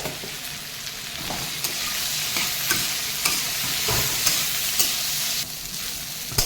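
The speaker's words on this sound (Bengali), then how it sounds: "এই মশলা দিয়ে আমার ডুমুরগুলো হাফ ভাজা হয়ে গেছে" Figs frying with spices and a little black pepper in a pan: steady close sizzling under repeated scraping stirs of a spoon against the pan, with no voices.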